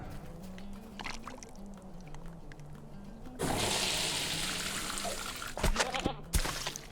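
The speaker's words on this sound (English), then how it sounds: "we added water to the stew." Water from a well is poured into a stew pot at an outdoor farm fair, starting as a soft trickle and then turning into a louder, steady rushing pour with a few splashes, no voices.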